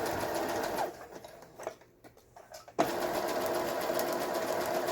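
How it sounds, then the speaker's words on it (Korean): A Brother CS6000i sewing machine runs an overlock stitch along a fabric edge, a steady mechanical whir that stops for about two seconds, then resumes at the same pace, close and clear. "옷감을 가장자리에 놓고 이런 식으로 바느질"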